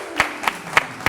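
Audience applause: a few sparse, sharp claps spaced about a third of a second apart, brief and fairly close, with no voices.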